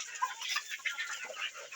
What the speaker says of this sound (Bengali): এই যে যেমন একটা মোরগ